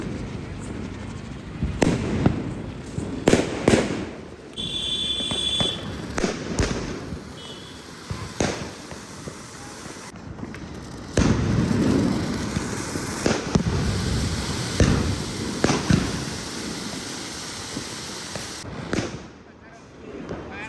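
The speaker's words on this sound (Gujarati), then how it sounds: "બંને જોડે ફટાકડા ફોડવા માટે" Diwali firecrackers burst repeatedly at a family celebration, sharp cracks and bangs arriving in irregular bursts, some close and loud, with brief whistling tones mixed in and voices occasionally heard between the blasts.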